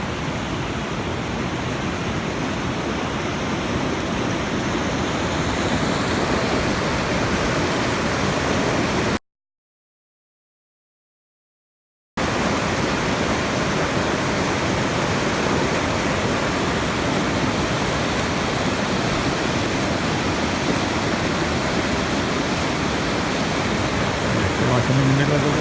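A mountain stream at Tuolumne Meadows in Yosemite, its water rushing in a steady, dense broadband wash heard up close from the middle of the current, with only a brief gap of silence partway through.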